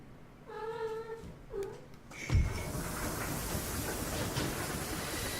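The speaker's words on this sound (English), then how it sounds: "my kitty likes to talk, especially when I talk, as you can hear" A cat meows twice in drawn-out, tonal cries, then a loud thump gives way to a steady rumbling noise like a moving train.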